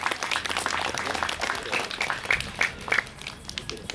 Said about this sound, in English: So a big round of applause for all the coaches and managers